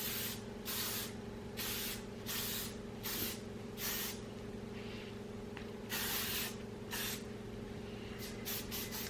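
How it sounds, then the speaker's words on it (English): Heat defense spray misted onto dry hair in a series of short, close hissing bursts with brief pauses between, fairly quiet and steady with no talking. "I'm just going to spray it on my dry hair."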